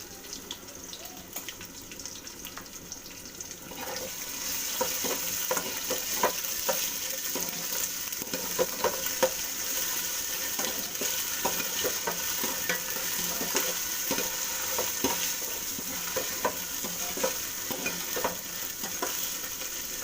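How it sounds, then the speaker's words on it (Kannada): Onions frying in oil with ginger garlic paste for cauliflower sambar, a steady close sizzle with repeated stirring scrapes, starting quieter and getting louder and fuller after a few seconds. "ಈರುಳ್ಳಿ ಫ್ರೈ ಆಗಿದೆ"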